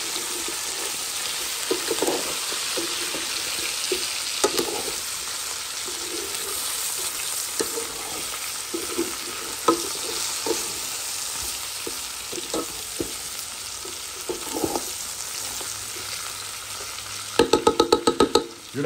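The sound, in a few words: stirring chicken and mushroom curry with spices in a pot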